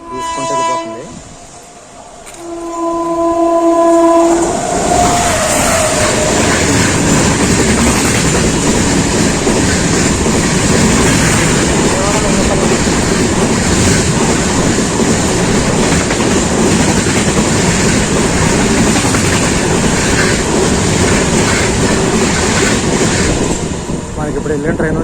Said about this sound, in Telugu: మనకి ఇప్పుడు వెళ్ళిన ట్రైన్ వచ్చేసి లింగంపల్లి విజయవాడ ఇంటర్సిటీ ఎక్స్ప్రెస్ అనమాట